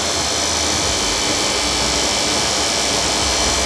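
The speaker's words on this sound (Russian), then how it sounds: "Вот она работает. Вот такой здесь двигатель," Inside a Hop Sport HS1402 treadmill under repair, the motor runs with a steady loud whirring hum and broadband noise, unchanging and close for the whole stretch.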